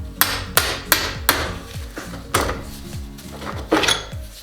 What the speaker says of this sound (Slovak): Opäť si zoberiete kladivko a vyklepnete osku vonku.